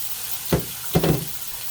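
An egg is added to a hot pan for egg fried rice, giving two short sizzling bursts of frying a moment apart, close by and moderately loud over a low steady hiss.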